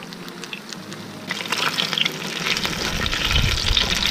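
Battered bass fillets frying in a pan: a quiet start, then a close, steady crackling sizzle that swells after the first second and keeps going with no one talking.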